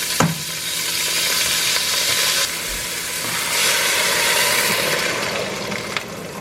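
Rice, olive oil and water combined on a hot stove burner give a loud, steady sizzle and hiss with some bubbling, opening with a sharp clink, and nobody talks.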